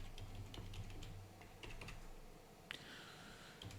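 Rapid computer keyboard typing during coding work, a busy run of close clicks over a steady low hum, then a short pause and a louder clack before typing resumes.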